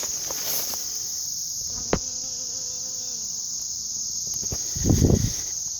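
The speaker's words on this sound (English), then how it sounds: "oh look, bees are already working it" Honey bees with full pollen sacs forage on flowers in a field, a close, droning buzz rising and fading over a steady insect hum, with a brief rustling thump near the end.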